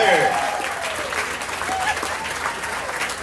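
Crowd applause in the grandstand at a county fair mutton bustin' event, a loud, dense burst of clapping with a few cheers, mixed with an announcer's voice over the arena.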